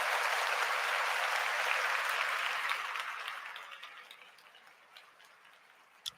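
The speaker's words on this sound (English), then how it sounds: "He deserves a round of applause." A crowd applauds, loud and dense at first, then thins out and fades over several seconds into scattered claps.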